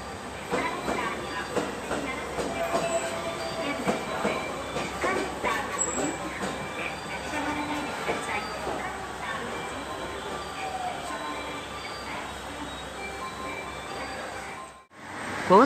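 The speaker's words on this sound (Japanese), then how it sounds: "今から乗るマリンライナー19号高松行きが入線します。" A JR West 223 series electric train, the Marine Liner bound for Takamatsu, rolls into Okayama station with rumbling wheels, clacking and faint squeals, steady and loud, with station voices murmuring beneath.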